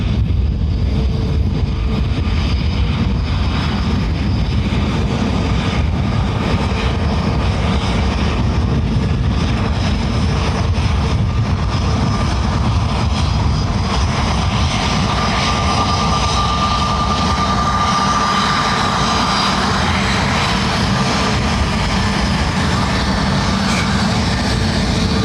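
Aircraft landing at Dublin Airport runway 28 left in high, gusty wind: a loud, continuous roar of jet engines that swells and holds steady throughout, heard outdoors with a thin whine rising midway.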